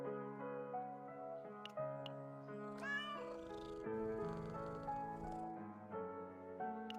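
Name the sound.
cats meowing when stroked, Chaos Zero Nightmare video game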